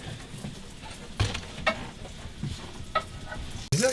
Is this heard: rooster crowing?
no